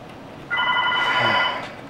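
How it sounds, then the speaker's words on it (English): A telephone rings with a steady electronic trill from about half a second in, clear harmonic tones held for roughly a second before fading, heard alone in a quiet room. "I hate the phone. I'm sorry about the phone."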